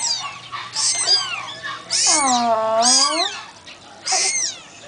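High, wavering kitten meows in the Philippines, several in a row with short gaps, close and fairly loud, with a brief spoken word near the start.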